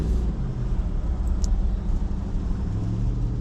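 A 2005 Dodge Ram pickup's 5.7 Hemi gas V8 idles steadily up close, a continuous low rumble with no talk over it.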